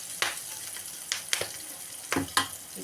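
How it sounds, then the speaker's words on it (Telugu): Brinjal pieces go into a pan of oil over a low flame, bringing a soft, even sizzle with several brief bursts of spatter and clatter as the pieces land. "ఇప్పుడు బ్రింజాల్ వేసుకుంటున్నానండి"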